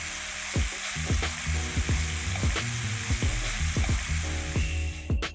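Chicken angara tikka kebab sizzles over a flame with a constant hiss, while close, repeated pops, crackles and spatters of fat break through at irregular intervals.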